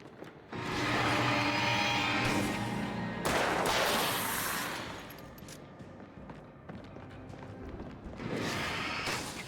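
Heavy gunfire from two shotguns in the Alan Wake video game, a run of loud overlapping blasts with a dense, sustained barrage, a lull, then another burst of shots near the end.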